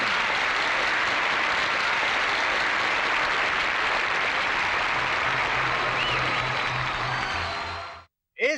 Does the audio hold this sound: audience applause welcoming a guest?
yes